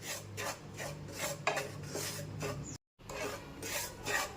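Semolina dry-roasts in a pan over a low flame without ghee, stirred in steady, rhythmic scraping strokes about twice a second, with a brief dropout partway through.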